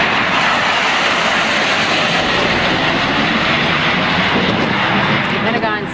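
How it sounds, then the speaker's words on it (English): A Russian military fighter jet roars past close to a US warship in the Black Sea, a loud continuous engine rush that fills the whole stretch, with a voice talking over it. "the fighter jet conducted multiple passes near the deck of the USS Ross"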